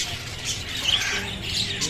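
Canaries and parrots in a Quetta bird shop give a continuous chorus of chirps and squawks, moderately loud with a steady busy background and no talk.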